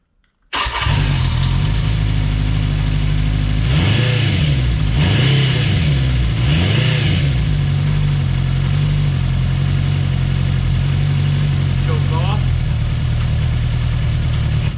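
A vintage motorcycle engine in a motorcycle shop cranks and catches abruptly, then idles close and loud, with three quick throttle blips rising and falling before settling back to a steady idle, plus a faint later blip.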